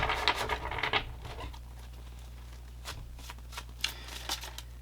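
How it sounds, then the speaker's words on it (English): Tarot cards riffle and shuffle in a quick burst of papery patter at first, then a few soft scattered flicks and taps over a quiet, steady hum. "But let's shuffle and pull another one."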